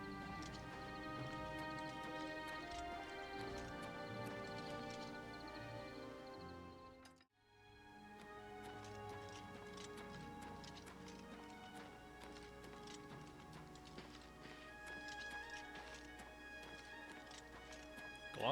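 Horse hooves clip-clop at a steady walking rhythm in Oblivion Remastered, backed by game music; the sound briefly drops out midway, then the hoofbeats and music resume.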